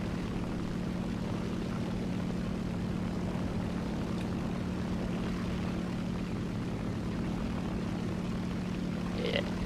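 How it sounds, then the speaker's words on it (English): Twin-engine P-38 fighters in War Thunder air arcade battle, a continuous steady propeller engine drone with low hum, moderate and unchanging, with a brief faint chirp near the end. "Ooh, two P-38s. We can't let them fly around unmolested."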